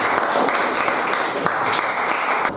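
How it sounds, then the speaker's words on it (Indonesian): A classroom group gives a round of applause for a student group returning to their seats, a continuous, fairly loud mass of clapping that tapers off at the end. "saya berikan tepuk tangan."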